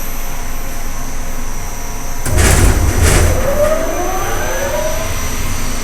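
The motor of a rooftop kitchen exhaust fan serving a penthouse on a 66-floor building drones steadily and loudly with a tonal hum, swelling briefly into a louder rushing surge midway before settling back.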